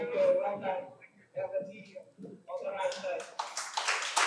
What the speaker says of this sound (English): I think the least we can show is stand up and clap